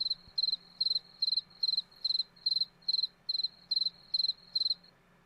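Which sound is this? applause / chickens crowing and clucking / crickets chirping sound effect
crickets chirping sound effect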